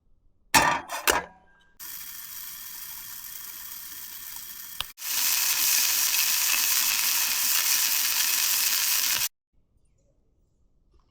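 Food frying in a small pan at a campsite, a steady bright sizzle running for several seconds after a few clattering handling noises, then stopping abruptly into near silence.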